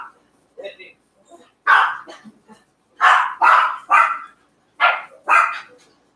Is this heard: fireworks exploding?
no